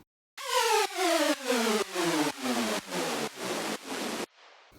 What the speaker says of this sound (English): this crazy synth drop effect that sounds like this